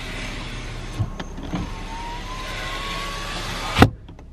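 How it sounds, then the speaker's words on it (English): The driver's side power window of a Nissan Sentra whirs steadily as the motor moves the glass, ending in a sharp thump as it stops, with a couple of small clicks before it. "Do my driver's side window."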